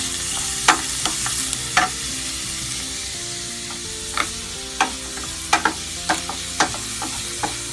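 Kotleti cutlets frying in a pan give a close, steady sizzle with sharp pops and spatters scattered throughout, with no talking.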